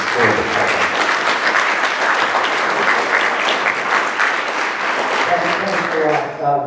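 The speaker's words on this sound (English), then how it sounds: "please give a round of applause for Paul" An audience applauds loudly for Paul, a family man and ranger, with dense, close clapping that holds steady throughout before tapering off as voices emerge at the end.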